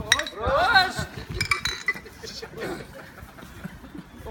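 Glasses clink together during an office toast, several bright chimes in the first second and a half, with overlapping voices and festive chatter continuing underneath.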